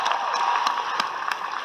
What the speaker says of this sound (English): Give yourselves a round of applause for joining us here in Anaheim.